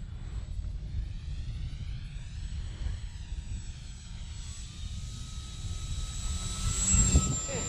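Electric SIG Four Star 20ep RC model airplane in flight, a continuous propeller and motor whine passing overhead, its pitch sliding and the sound swelling near the end, with wind noise beneath.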